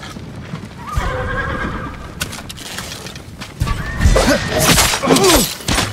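Samurai horses whinny and neigh near stables in Ghost of Tsushima, with clip-clopping hooves, a few layered calls rising louder toward the end over a busy game soundscape.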